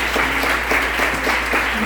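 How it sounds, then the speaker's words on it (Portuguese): A congregation claps steadily during a church worship service, a loud dense applause with a faint rhythmic pulse filling the whole moment. "Vamos aplaudir o Senhor mais uma vez"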